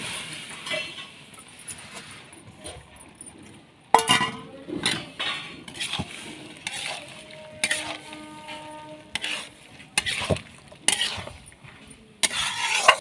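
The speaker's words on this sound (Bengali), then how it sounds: "চাল কুমড়োটা দিয়ে দিচ্ছি।" Chopped ash gourd pieces drop into a pot of half-cooked lentils, with irregular clinks, knocks and stirring scrapes of a utensil against the pot over a faint low simmer.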